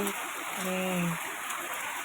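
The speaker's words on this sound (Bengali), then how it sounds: "বাইরে প্রচণ্ড বৃষ্টি হচ্ছে" Heavy rain falling outside, a constant hiss of drops on surfaces running steadily throughout, with a brief voice speaking over it.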